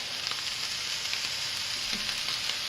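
Vegetables with garlic, cilantro and parsley sizzle and fry in a pan while cooking couscous, a steady close crackling hiss with small pops throughout.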